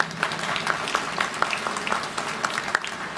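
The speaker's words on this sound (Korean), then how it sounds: "박수로 환영해 주시기 바랍니다." Audience applause at the INNOPROM industrial exhibition welcoming a guest on stage, a moderate crowd of hands clapping steadily with a few sharper individual claps standing out.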